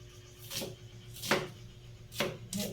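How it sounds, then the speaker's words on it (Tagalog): A knife chops through onion on a cutting board while garlic and onion go into a home-cooked beefsteak breakfast, four distinct crisp cuts spaced unevenly over a few seconds, close and moderately loud, with no talking. "Hinihiwa na po niya."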